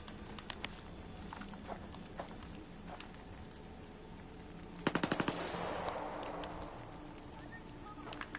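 Gunfire from the video game S.T.A.L.K.E.R. 2: scattered single shots at first, then a loud rapid automatic burst near the middle, trailing into a noisy rumble and a few more sporadic shots.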